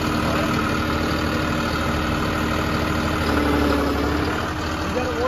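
A John Deere 5310 tractor fitted with a backhoe loader attachment runs its engine in a steady, loud idle-to-rev drone, dense and continuous from start to finish with a slight rise in pitch partway through.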